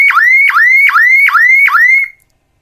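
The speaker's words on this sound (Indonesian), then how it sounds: "Terlihat tadi alarm masih sempat berbunyi karena pintu belum ditutup." A loud electronic emergency exit door alarm, sounding because the door is open, repeats five quick swooping beeps in a steady rhythm, then cuts off abruptly into silence.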